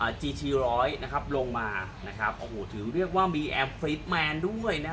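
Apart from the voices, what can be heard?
No everyday noises stand out.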